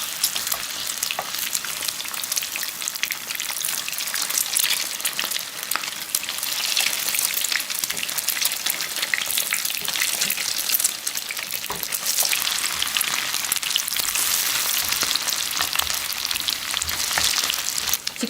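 Lotus root and shrimp jeon in egg batter frying in a pan, a dense, continuous sizzle and crackle of hot oil, loud and close, with a few soft clinks from flipping and no talk.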